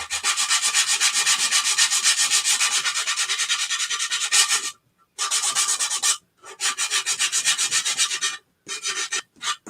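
A wooden Christmas tree cutting board sanded by hand, with loud, close, rhythmic back-and-forth rubbing strokes in long runs broken by short pauses.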